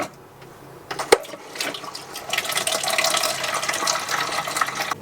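Water rushing through a boat's water tank and fittings, starting quietly, then building to a steady loud gush close by.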